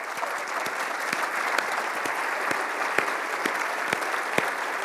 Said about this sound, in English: Now that deserves a round of applause to yourselves.